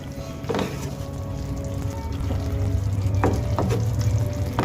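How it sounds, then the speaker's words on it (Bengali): A pot of Bengali-style chuna fish and potato curry being stirred, with a steady low bubbling simmer and several short scraping clinks of a spoon against the pot, close by, no talking. "একটু নাড়িয়ে দিয়ে নেব আর একটা ঢাকনা দিয়ে ঢেকে দেব।"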